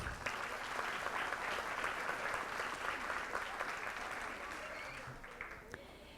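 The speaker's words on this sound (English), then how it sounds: "Let's give Yoli another big round of applause." A room of attendees at a school board meeting claps steadily in a sustained round of applause, moderately distant, tapering slightly toward the end.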